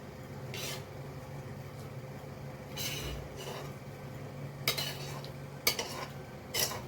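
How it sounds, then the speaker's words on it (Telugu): Lemon rice mixed with masala in a metal vessel, a spoon scraping and clinking in scattered strokes against steady quiet background hiss, close and fairly soft. "రైస్ని బాగా కలుపుకోవాలి"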